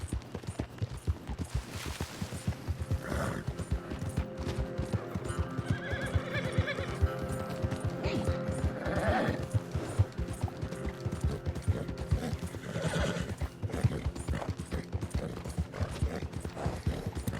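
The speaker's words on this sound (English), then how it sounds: "Man, there's another healthy horse there." A horse in the Red Dead Online video game whinnies several times over a steady clatter of hooves, with game ambience underneath.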